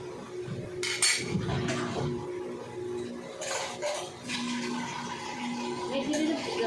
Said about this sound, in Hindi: साथ ही साथ अपने जो बर्तन है वो धो लेती हूँ